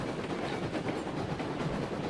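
Locomotive running in the RailRoads Online video game, a dense continuous rumble with a faint rhythmic rolling clatter, close and fairly loud throughout, with no voices.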